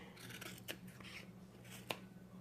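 Scissors trim upholstery fabric on a corner chair, a few soft, close snipping cuts over a faint steady background hum, quiet throughout.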